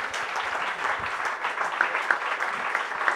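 An audience claps steadily, a dense patter of many hands, moderately loud with no one speaking over it.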